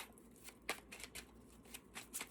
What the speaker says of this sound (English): Wow, I'm having a hard time shuffling.